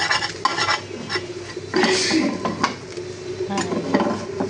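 An egg fries in a small frying pan, with a soft sizzle beneath scraping and clinking of a utensil against the pan in irregular bursts, close by.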